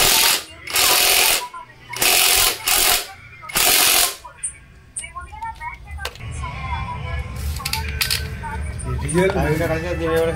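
Power tool on a Mahindra scooter, tightening the magneto nut: three loud, close, rapid hammering bursts, then a continuous rattling mechanical hum with clicks and noise building toward the end.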